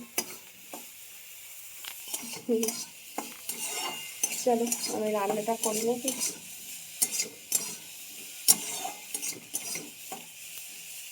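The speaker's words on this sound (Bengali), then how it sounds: "এরকম ভাজা হচ্ছে" Pan frying with a soft sizzle, broken by repeated clinks and scrapes of a utensil stirring against the pan, while a person speaks briefly partway through.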